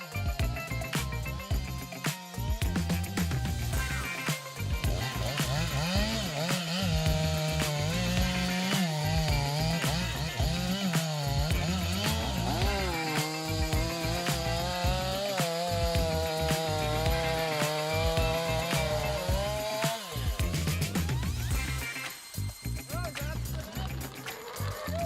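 Large 500-horsepower forestry harvester with a chainsaw head felling a giant tree with a 1.3-meter trunk, a continuous loud engine and saw roar with wavering pitch for over twenty seconds before briefly dropping off near the end.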